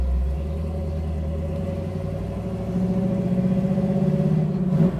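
A 1967 Chevy Camaro RS engine rumbles close by, then climbs as it accelerates and revs harder toward the end, with no talking over it.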